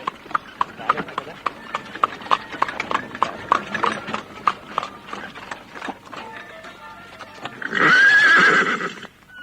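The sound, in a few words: horse galloping and neighing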